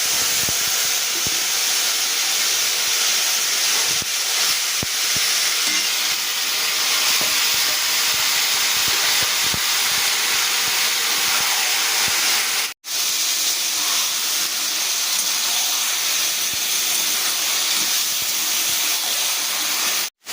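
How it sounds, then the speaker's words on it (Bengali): Boiled taro leaves hit a hot pan already holding chilli, bay leaf and five-spice seeds, producing a loud, continuous hissing sizzle that runs unbroken for the whole stretch. "এবার দিয়ে দিচ্ছি সেদ্ধ করে রাখা কচু শাক"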